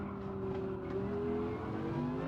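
A Gr.1 prototype race car in Gran Turismo 7 drones steadily in second gear on the Daytona road course, a smooth even engine tone held at moderate volume with a slight rise in pitch.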